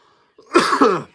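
A single harsh cough, close and fairly loud, with no talking around it.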